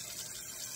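Hot water runs from the tap into a kitchen sink where cast iron skillets are cleaned, a steady close bright gushing hiss with no break.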